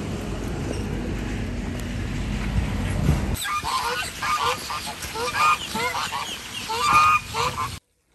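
Geese honk repeatedly at fairly close range, a busy overlapping chorus that follows a few seconds of low rumbling background noise.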